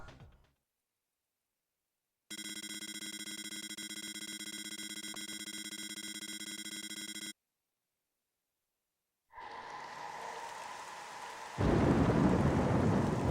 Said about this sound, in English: Raining in a swamp.